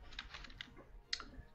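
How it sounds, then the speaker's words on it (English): Quick light keystrokes on a computer keyboard, a brief close run of soft clicks with one sharper tap near the end. "I guess the other way we can do this is just by typing in this."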